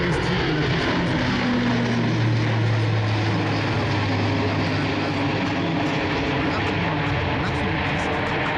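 Airbus A400M turboprop engines at high power during a go-around at an air show display, a loud steady propeller roar with a slowly shifting tone, close overhead and sustained throughout.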